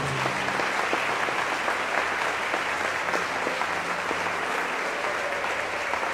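A Portuguese-speaking church congregation applauds and glorifies during an evening worship service, a thick, continuous roar of many hands clapping at steady volume, with a few crisp individual claps standing out.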